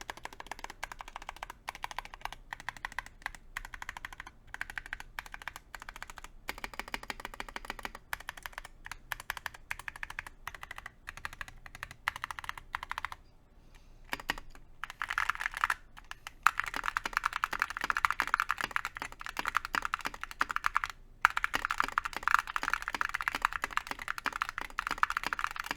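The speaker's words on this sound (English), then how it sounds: "Considering how the Azure Dragons are a pretty clacky switch, that sounds pretty good in my opinion." Mechanical keyboard fitted with Cerakey V2 ceramic keycaps and Azure Dragon switches, typed on in rapid, irregular bursts of crisp clacky keystrokes, close and fairly quiet, with brief pauses between runs.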